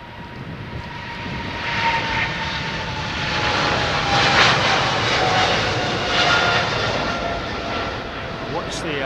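An airliner departs from the northern runway at London Heathrow, a steady broad engine roar holding fairly loud across the whole stretch with a slight swell midway, no pause.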